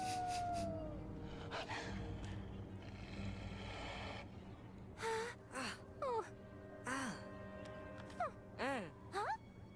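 Hermione's howl in the LEGO Harry Potter video game, a sequence of rising and falling wavering cries, several short loud swoops in the latter half, preceded by game music and ambient sound.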